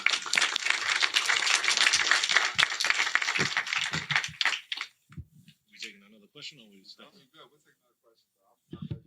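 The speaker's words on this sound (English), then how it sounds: "Give everybody a round of applause again" People at a private business circle meeting break into enthusiastic applause for everyone present. The dense clapping lasts about five seconds, then dies away into scattered claps and someone talking.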